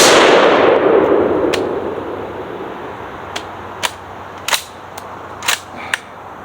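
An FR-7 rifle fires several shots, sharp cracks spaced about a second apart with a pause before each one. The shots sound moderately distant and come after a loud fading rumble at the start, with no talking.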